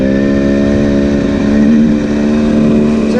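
A KTM 300xc dirt bike ridden through sand, its engine loud and close with a steady buzzing drone and slight pitch wavers as the throttle shifts.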